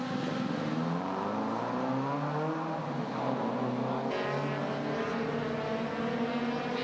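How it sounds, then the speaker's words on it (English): Touring class race cars at a Malaysia Championship Series race pull into the pits, their engines droning loudly and continuously with shifting pitch as several cars pass close by. "we'll give you just see a couple more cars coming into the pits"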